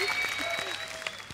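A TV comedy show's studio audience bursts into brief, full applause over a sustained musical tone, short and steady throughout.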